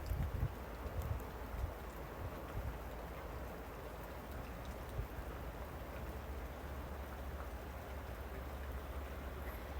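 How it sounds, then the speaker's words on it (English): Rain falls steadily outside a window as a soft, even hiss. A little low rumble comes early on, and no one speaks. "If you hear that shh, that's the rain."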